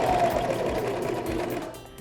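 Serger sewing machine stitching a rolled hem on a linen napkin, a steady close mechanical whir with fast rhythmic needle pulsing that eases slightly toward the end.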